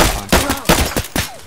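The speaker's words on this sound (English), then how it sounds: "Alright, I'm gonna switch to full auto." Rapid full-auto gunfire in Escape from Tarkov, five sharp close shots in a quick, slightly uneven rhythm, loud and dry.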